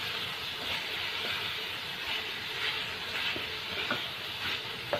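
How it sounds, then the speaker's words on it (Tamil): Grated coconut sautéing and being stirred in a pan on a stove while making banana stem chutney, a steady soft sizzling hiss with faint scraping stirs, close and continuous with no talk. "இப்போ 2 நிமிஷமாக தேங்காய் நான் வதக்கிட்டுருக்கேன்"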